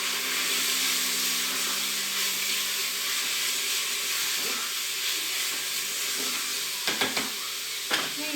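Meat browning in a pan gives a steady, close hiss and sizzle with a few soft utensil clicks and scrapes near the end, and no one speaks.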